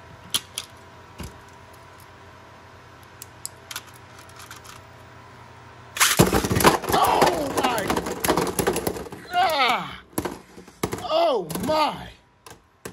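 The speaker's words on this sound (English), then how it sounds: "My ear almost got destroyed from the sheer volume of that clash." After quiet clicking, Hasbro Beyblade tops Judgement Joker and Zwei Luinor slam together in a sudden loud metallic clash, followed by rattling, grinding collisions and an excited voice exclaiming.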